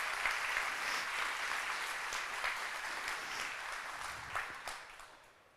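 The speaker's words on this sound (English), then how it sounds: "So big round of applause for all of you." Steady applause from an audience at a service dog graduation, honoring the program's volunteers, with dense clapping that thins and fades toward the end.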